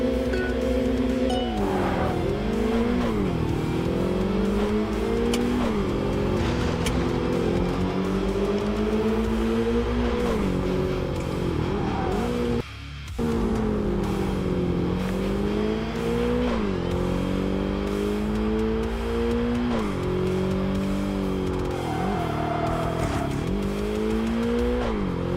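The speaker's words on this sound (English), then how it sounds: "That definitely feels different on an all-wheel drive car." An all-wheel drive car is driven hard in Tokyo Xtreme Racer Drift 2, the engine rising and falling through repeated revs and shifts with tyre squeal, loud and continuous, with a brief dropout midway and no talk.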